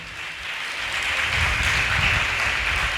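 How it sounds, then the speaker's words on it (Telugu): A church congregation claps loudly during Sunday worship, a dense, steady wash of many hands that swells slightly midway and carries on without pause, with no voices standing out. "చప్పట్లు కొట్టండి గట్టిగా"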